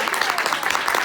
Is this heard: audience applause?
yes